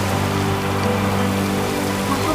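Steady, dense rain falling, a loud continuous hiss of drops with no pauses and no talk.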